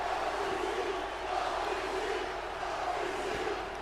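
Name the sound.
arena crowd cheering in WWE 2K26 video game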